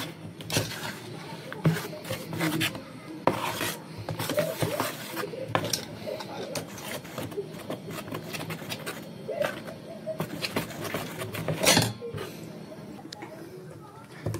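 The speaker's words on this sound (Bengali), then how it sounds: "এটা এবার ভালো করে ফেটিয়ে দেবো" Flatbread batter is beaten by hand in a bowl, giving a run of irregular clattering, tapping strokes at moderate volume, with occasional louder knocks.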